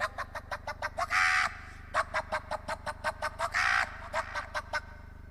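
A voice mimics a rooster with rapid rhythmic clucking pulses, twice swelling into a drawn-out crowing cry before the clucks resume.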